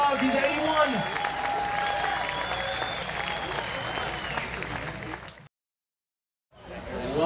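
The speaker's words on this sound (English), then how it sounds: "Give him a good applause" Audience applause for an 81-year-old musician at an outdoor lagoon concert series, steady crowd clapping under an announcer's voice that fades out into a brief silence before sound resumes.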